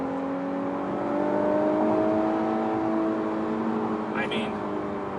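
Infiniti Q50 Red Sport accelerating briskly, a steady engine and road drone with a rising tone heard from inside the cabin, with brief other noise near the end.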